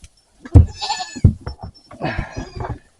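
A goat herd bleating up close, with several loud, separate bleats from different animals overlapping across the few seconds, and no talking.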